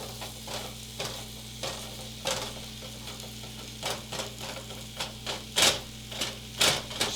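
Ground turkey and kale stir-fry in a small pan, a soft sizzle broken by repeated sharp scraping and tapping strokes from stirring, some of them loud and close. A steady low hum runs beneath.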